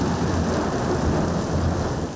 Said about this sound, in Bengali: অশনি সংকেত হয়ে আসলো বিকট শব্দের বজ্রপাত।